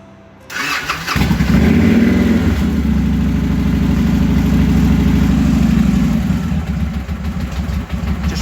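A motorcycle engine cranks and catches after a wiring repair, then settles into a loud, steady, close idle that runs for several seconds.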